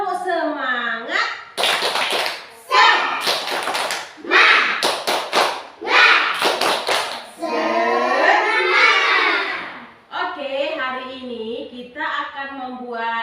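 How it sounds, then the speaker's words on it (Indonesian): A classroom of children performs a rhythmic spirit clap, with loud bursts of sharp claps in patterned groups alternating with group chanting and a teacher's voice. "yuk tepuk semangat."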